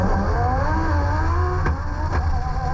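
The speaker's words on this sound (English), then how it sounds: "They launch pretty much together, but a lot of wheel spin for the Evo, and that gives the Lambo all it needs to get out of there." A Lamborghini and a Mitsubishi Evo launch side by side in a drag race, their engines roaring loud and close in a sustained, revving blare.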